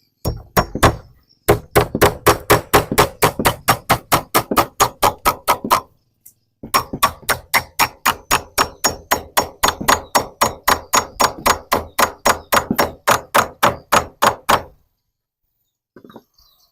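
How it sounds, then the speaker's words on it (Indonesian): Steady, loud hammer blows drive nails into wood while building a roof gable frame, struck in rapid regular runs of sharp impacts with a short pause midway and silence at the end. "Jadi paku tadi kita paskan ya dulur, paskan di as tengah, kemudian kita paku dulu"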